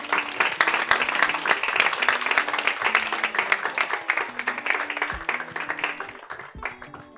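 A studio audience claps in rhythmic, distinct hand claps over music with steady low notes, holding a lively pace before thinning out near the end.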